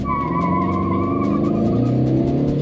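Tata Nexon diesel car accelerating from inside the cabin, a steady loud engine drone with rising tones and constant road rumble, no voices.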